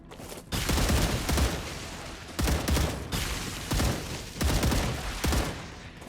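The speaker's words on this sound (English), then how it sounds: "Mortars." Mortar fire in the sci-fi shooter StarRupture: a string of loud, booming blasts in close succession, clustered in bursts with short gaps between, with no talk over them.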